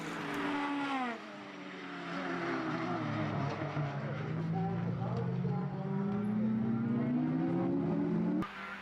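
Formula BOSS race cars on the straight at the Leinster Trophy race in Ireland, high engine whine rising and falling in pitch as the cars accelerate and draft, with a commentator talking over it.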